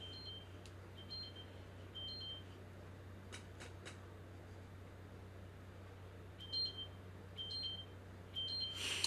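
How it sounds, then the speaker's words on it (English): Several short, high electronic beeps sound in small clusters, spaced a few seconds apart over a low steady hum, with no talking. "I got a little alarm that's gonna beep 2 more times."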